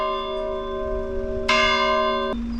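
Church bells ring near a village church at the top of a climb on the Camino de Santiago in Spain, long sustained tones with a fresh strike midway and another near the end, with no voices.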